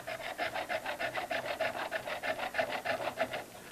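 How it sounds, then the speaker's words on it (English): Boxwood stock turned down on a wood lathe while the tool cuts, giving a steady rhythmic raspy scraping with regular pulses, close and fairly loud with no talk. "I'll turn down to the dimension that I have just copied."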